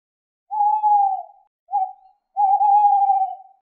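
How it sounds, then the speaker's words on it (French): An owl hooting three times in a long, short, long pattern. The clear, steady tones sound near and loud against complete silence. "C'est le cri de la chouette."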